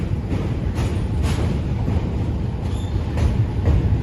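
Train rumbling across a bridge in New York, a continuous heavy low roar of wheels and cars on the rails at moderate distance with faint metallic squeals, no voices.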